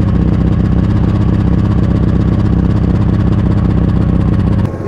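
A 1934 Talbot London AV105 with over 140 hp chugs steadily while driving uphill, its engine a loud, continuous, even rumble heard close up from start to finish without talk.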